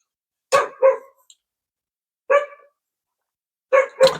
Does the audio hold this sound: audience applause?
no